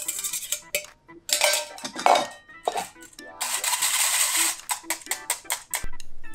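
Beaten eggs are pressed through a metal sieve for an omelette, producing busy clinking, scraping and tapping of utensil on mesh and bowl, close and fairly loud, ending in a run of quick taps.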